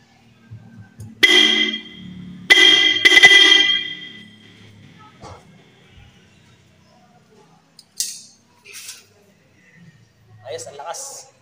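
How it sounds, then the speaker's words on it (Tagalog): A newly installed Mega Sonic car horn on a Mitsubishi Mirage G4 blasts three times, one long honk then two quick ones, loud and close, followed by quieter clicks and a voice. "titestingin ko na muna yung busina"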